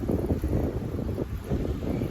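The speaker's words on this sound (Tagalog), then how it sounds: "Pero buti na lang mahangin." Steady, buffeting wind rumbles against the microphone throughout, a low roaring gust with no voices.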